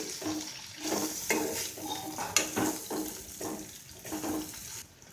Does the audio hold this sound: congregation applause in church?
no